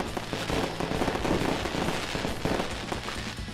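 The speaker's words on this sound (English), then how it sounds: "we got the fireworks going on here" Fireworks go off during a Christmas event in American Truck Simulator, a dense, rapid crackle of pops and bursts that fills the whole stretch with irregular, loud bangs and no voices.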